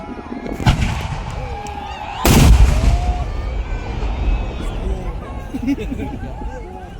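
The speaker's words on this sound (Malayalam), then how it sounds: "വെടിക്കെട്ട് തുടങ്ങാൻ വേണ്ടി പോവുകയാണ്" Loud booming fireworks blasts at the Kannambra Vela temple festival in Kerala, one sharp bang early and a bigger burst midway, with crackling and a crowd chattering throughout.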